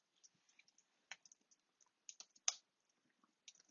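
Keys click on a computer keyboard in short, irregular bursts of taps with brief pauses, close and quiet in a silent room.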